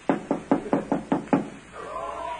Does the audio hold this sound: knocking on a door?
yes